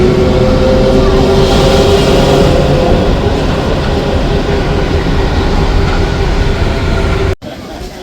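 Steady loud rumble of a Paris metro train running along rails, a continuous roar with faint tonal hum, cutting off abruptly near the end.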